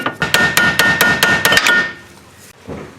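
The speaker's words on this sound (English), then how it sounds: "Just gonna hammer that in there." A rapid series of about seven sharp metal hammer strikes driving a screwdriver into a slit during Ford Focus control arm replacement, close and loud, in the first half, then quieter handling and a faint knock.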